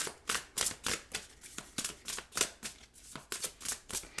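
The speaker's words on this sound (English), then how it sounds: "I'll try to shuffle quickly this time so it won't be as long." A tarot deck is riffled and shuffled by hand in quick, repeated bursts of crisp card flutters, close and fairly quiet, with no talking.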